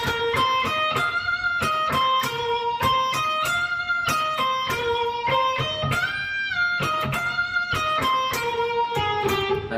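Electric guitar plays a sustained harmony line, with steady picked notes, slides and bends in a continuous loud phrase and no talking.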